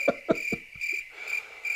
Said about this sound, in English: Play crickets if you're not shocked.